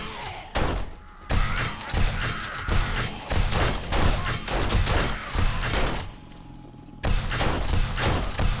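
Turret fire in the video game 7 Days to Die: loud, rapid bursts of gunfire and heavy thuds come in long runs, broken by short quiet gaps, with no voices.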